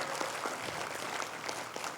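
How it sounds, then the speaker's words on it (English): Audience applause at a convention general session, a fairly faint, even patter of many hands clapping with no talk over it. "Let's give them all a round of applause because they were quite special"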